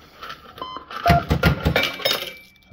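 Clattering 20p coins tumble out of an Associated Leisure Speedway fruit machine paying a £2 jackpot in a busy metallic rush, mixed with electronic beeps and chimes, fairly close.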